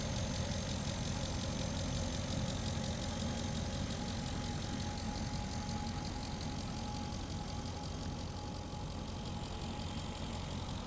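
The 5.7-liter Hemi V8 of a white 2019 Ram 1500 Big Horn 4x4 pickup idles steadily, a constant low rumble with even tone throughout and no talking.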